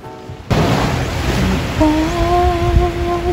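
Ocean surf on the beach at Sual, Pangasinan, a steady broad wash of breaking waves close by, with a sustained tonal hum rising partway through over the roar.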